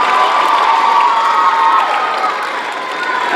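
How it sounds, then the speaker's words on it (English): Banquet crowd applauding and cheering for a JV Grey football team at a 2019 awards event, a loud steady roar of clapping and voices with a faint tonal hum underneath. "All right, let's give JV Grey football a round of applause."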